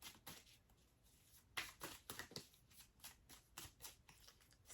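Tarot cards being shuffled by hand at close range, a run of quiet papery riffles and soft slaps in an uneven rhythm with no talking.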